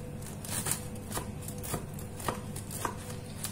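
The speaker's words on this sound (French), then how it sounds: "je vais vous couper des morceaux pour que vous voyez" A knife cuts pieces of a soft chocolate cake, giving a series of short crisp taps against a board at an uneven pace over a quiet background.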